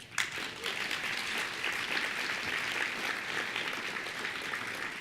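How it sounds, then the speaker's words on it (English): Audience applause follows a lightning talk at a programming conference, a brisk, continuous patter of many hands clapping at moderate volume that stays steady throughout. "Don't clap too long."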